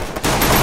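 Dense, rapid gunfire from a mobile battle-royale shooter game, a burst of overlapping shots that starts sharply after a brief lull and keeps up loud and continuous to the end.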